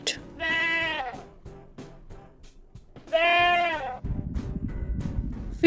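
A goat bleats twice, each call a loud, wavering, nasal cry with a rough quaver, separated by a quiet pause. A low rustling, shuffling noise follows the second call.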